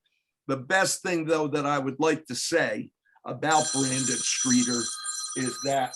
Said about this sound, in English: his father is calling me on the phone right now